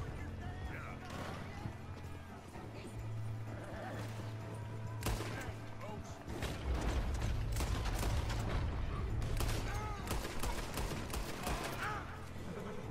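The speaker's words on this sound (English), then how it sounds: "Oh, I love the dual-wield pistols." Rapid pistol shots from dual-wielded revolvers in Red Dead Redemption 2 during a gunfight with Driscoll gang members, a dense fusillade of sharp cracks over game ambience and galloping hooves, with someone talking throughout.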